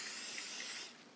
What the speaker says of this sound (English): spray the inside of your mug with cooking spray